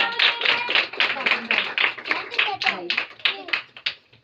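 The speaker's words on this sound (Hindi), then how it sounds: "इसी तरह आंटी को जोरदार तालियों में" Hands clap in a quick, uneven burst for an aunty at a Christmas worship gathering, a few nearby clappers rather than a large crowd, with a voice speaking over the clapping.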